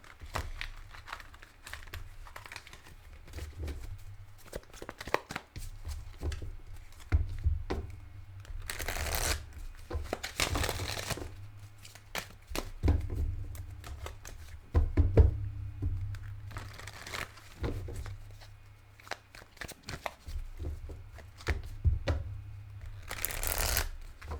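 Tarot cards being shuffled again and again, with riffling bursts, soft taps and knocks on a table. Close and fairly quiet, with no talking.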